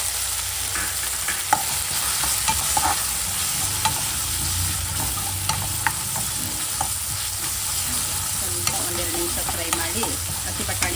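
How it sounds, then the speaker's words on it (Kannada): Fresh green peas being stirred with ginger garlic paste in a hot pan for pudina rice, a continuous sizzle with repeated scraping strokes of the spoon, close and steady. "ಒಂದು ಟೇಬಲ್ ಸ್ಪೂನ್ ಶುಂಠಿ ಬೆಳ್ಳುಳ್ಳಿ ಪೇಸ್ಟ್ ಹಾಕ್ತಾಯಿದ್ದೀನಿ ಅದಕ್ಕೆ ಒಂದು ಕಪ್ ಹಸಿ ಬಟಾಣಿ ಹಾಕ್ತಾಯಿದ್ದೀನಿ"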